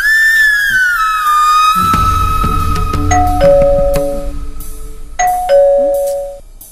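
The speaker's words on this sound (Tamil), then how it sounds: "அங்க காலிங் பெல் அடிச்சிட்டு இருக்கீங்க, என்னன்னு பாரு." An electronic doorbell chimes indoors in a home, ringing its melodic ding-dong tones twice in succession, loud and near, after a brief vocal sound at the start.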